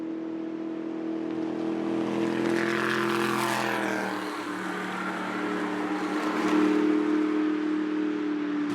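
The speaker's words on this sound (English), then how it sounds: "are you picking up what I'm putting down about the sound of that far faster Darren Farr engine?" A powerful ski race boat engine roars past at the Hamilton Bridge to Bridge waterski classic, its loud drone rising and then dropping in pitch as the boat goes by.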